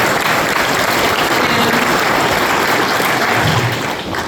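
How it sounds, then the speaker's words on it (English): Sustained audience applause fills a panel talk at a vintage computer festival, a dense, steady wash of clapping from a large crowd that holds loud throughout, with no speech over it. "Round of applause for Jim Leonard"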